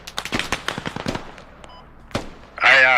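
Video game gunfire during an ambush, with rapid machine gun bursts of sharp cracks over about a second and a half, then a single loud shot and a harsh burst at the end.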